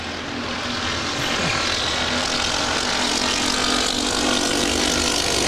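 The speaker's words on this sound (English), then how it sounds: "this is the Atlas Air departing to Amsterdam." An Atlas Air jet departing LAX for Amsterdam roars down the runway, a loud, steady engine rumble that holds throughout without breaks, with no voices heard.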